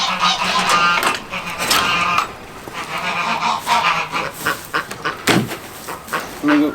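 Several geese honk loudly and repeatedly close by, their calls overlapping in noisy bursts.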